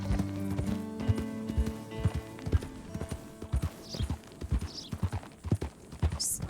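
A horse galloping across open terrain, hooves thudding in an uneven rapid rhythm, close and moderately loud, with a few faint high squeaks in the background.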